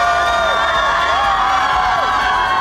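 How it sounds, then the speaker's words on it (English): A large, animated crowd cheers and shouts at a store opening in Shanghai, with high excited voices and whoops rising in waves, loud and continuous throughout. "I don't think I ever seen a crowd like that, so animated and so excited to see us"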